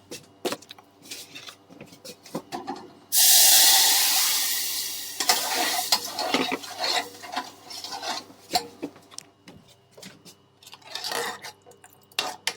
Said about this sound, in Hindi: अब हम इसमें अपना बैटर डालेंगे